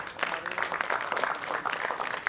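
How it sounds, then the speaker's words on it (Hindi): A theatre audience gives sustained, dense applause to welcome the cast of the stage play Afsana-E-Manto, directed by Kapil Kumar. The clapping is a busy, steady roar with faint talk underneath. "जोरदार तालियों से स्वागत करें"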